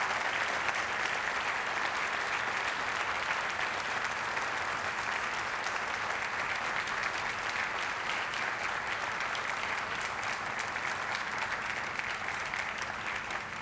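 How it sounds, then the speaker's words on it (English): Sustained, dense applause from an audience in a ballet hall after a Royal Winnipeg Ballet performance, steady and even throughout with no voices over it. "can your dancers hear the applause in the hall?"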